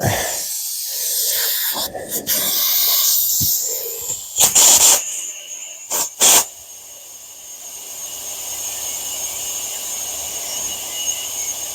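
Air hissing from a Slime digital air chuck inflating a tire from a compressor tank, coming in several short loud bursts at first and then settling into a steady broad hiss that runs on to the end.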